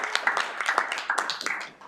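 Committee members at a Ways and Means session give a brief scattered round of clapping, a few hands close by, lasting under two seconds with uneven claps.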